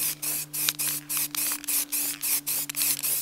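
An aerosol spray paint can laying on wet coats, held upright and swept across a surface: about a dozen short, even hissing bursts in a steady rhythm, close and fairly loud, with a low background hum throughout.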